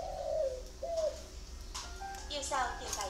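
A spotted dove coos in the early morning, a few soft low repeated phrases near the start, later joined by brighter chirps from other birds and some background noise.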